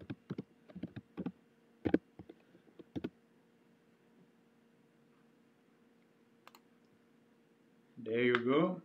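Keys on a computer keyboard are typed in short bursts of sharp clicks to enter login credentials, then go quiet; a voice starts speaking at the very end.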